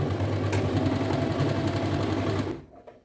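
A sewing machine stitching a deep-neck blouse runs in a fast, steady mechanical whir with rhythmic needle knocking, close and loud, then stops abruptly near the end.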